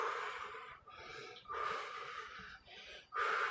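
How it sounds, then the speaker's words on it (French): Someone breathes deeply during a home workout: loud, close breathy inhales and exhales in an alternating rhythm, about four breaths, with no talking. "Inspirez, soufflez"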